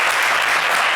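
A studio audience at a French TV game show applauds loudly, a dense, even wash of clapping that fills the whole short moment without a break.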